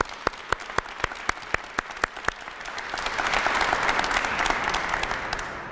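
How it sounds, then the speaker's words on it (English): An audience at a city press conference claps for an announcement, starting with a few sharp separate claps that build into a fuller, sustained round of applause, moderately loud. "one more round of applause for today's announcement"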